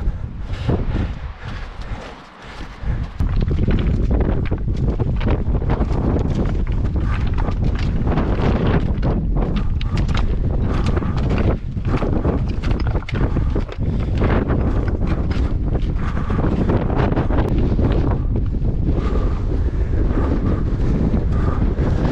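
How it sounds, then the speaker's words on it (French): Strong wind buffeting the microphone near the summit of Mont Ventoux during a snowy mountain trail race, a loud continuous roar and rumble with gusty surges throughout, no talk. "Un tout petit peu de vent"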